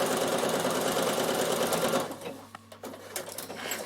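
A Bernina sewing machine stitches laminated cotton pieces together in a fast, loud whirring run that stops abruptly halfway, leaving quieter handling noises.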